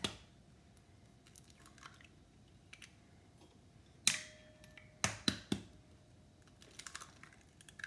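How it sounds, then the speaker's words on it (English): Two large eggs cracked into a bowl while making sweet potato custard: a few sharp, close taps and cracks stand out in a quiet kitchen, with smaller clicks and faint handling noises scattered around them. "now we're gonna put in 2 large eggs"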